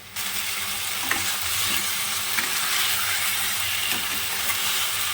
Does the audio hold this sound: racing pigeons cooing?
no